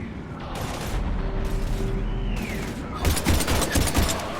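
Sustained gunfire from a Mass Effect firefight, close rapid bursts over a continuous roar, growing denser and louder toward the end with no talk over it.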